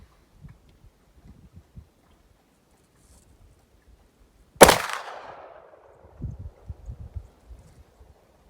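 A Glock pistol in 10mm with a red dot fires one sharp, loud shot of 160-grain loads outdoors at dusk from a bench, its report ringing briefly, with faint rustling and movement before and after.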